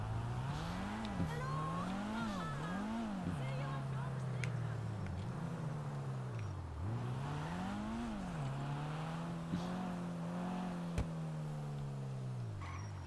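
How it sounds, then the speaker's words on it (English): A car in a roleplay driving game revs and shifts repeatedly, its engine tone rising and falling in waves with a faint tire squeal, while people talk over the steady engine drone. "Fine car you got there."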